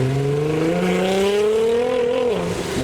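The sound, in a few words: modified Nissan GTR accelerating away from car show in heavy rain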